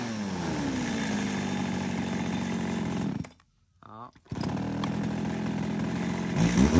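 A two-stroke chainsaw with a built-in spring-assisted recoil starter roars loudly and steadily up close, cuts out briefly to near silence with a short sputter, then resumes at full throttle.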